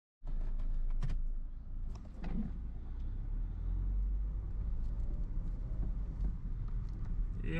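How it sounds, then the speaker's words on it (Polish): A car drives up to an automatic gate fitted with a license-plate-recognition camera, steady low engine rumble and road noise from inside the vehicle, with a few clicks and knocks and no talking. "Będziemy jechać samochodem."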